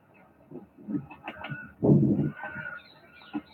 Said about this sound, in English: you can hear birds crowing, yeah? There must have been hundreds of fucking crows, blackbirds